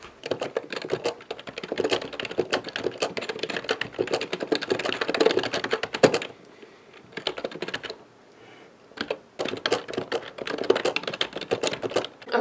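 Steady computer-keyboard typing during a timed 25-minute writing sprint, rapid clustered keystrokes pattering close up with a few short pauses and one longer break near the middle, no talking.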